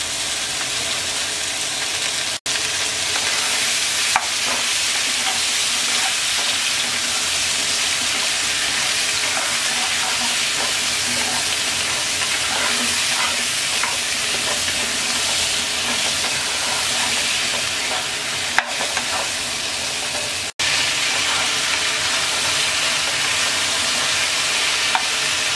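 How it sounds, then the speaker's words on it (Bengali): Potatoes and pointed gourd fry in oil in a pan, a loud, continuous hissing sizzle with faint stirring scrapes and no speech. "আলু পটল ভেজে নেওয়া হয়ে গেছে"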